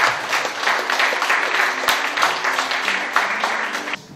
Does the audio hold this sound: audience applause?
yes